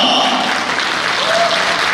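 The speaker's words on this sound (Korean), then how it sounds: "박수로 하나 주시기 바랍니다" Wedding guests applaud at a musical-style wedding ceremony in a convention hall, a dense, steady wash of clapping filling the room throughout with a faint tone rising briefly in the middle.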